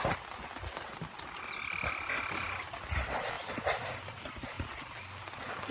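A frog croaks repeatedly outdoors near water, its calls moderately distant and somewhat faint against rustling ambient noise, with no talking over it.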